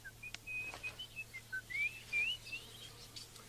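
In a children's fairy tale, an alarm sounds as a wavering series of high whistled tones, rising and falling in short bursts over a steady low hum, with no speech.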